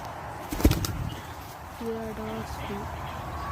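A released pigeon flaps its wings in a brief, loud burst of beats near the start. Soft cooing tones follow, then quiet rustling outdoor background.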